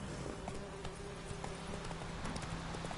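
Horse hooves clip-clop steadily in a PS4 video game, a regular trotting rhythm of soft repeated knocks over a constant background drone of game ambience.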